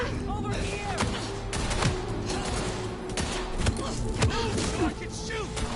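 Gunfire erupts in the vampire action game Vampire: The Masquerade Bloodlines 2 as a rapid fusillade of sharp, close shots and thuds. The shots come in irregular bursts, mixed with shouting voices and battle noise.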